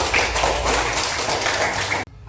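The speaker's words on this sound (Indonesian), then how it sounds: "Tepuk tangan dulu." Schoolchildren in a classroom clapping their hands together, a close, busy patter of claps for about two seconds that stops abruptly.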